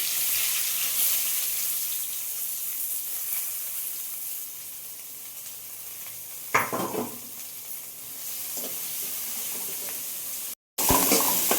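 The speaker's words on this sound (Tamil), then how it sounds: "வெங்காயம் நல்லா வதங்கட்டுங்க." Onions sautéing in a pan alongside okra, a steady soft sizzle running throughout with a brief stirring clatter midway and a short break near the end; no talking.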